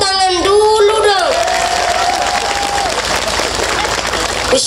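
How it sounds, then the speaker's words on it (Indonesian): Loud audience applause and cheering at an Islamic religious lecture, a dense wash of clapping from a crowd, with a shouting voice rising briefly at the start before the clapping carries on steadily. "tepuk tangan dulu dong"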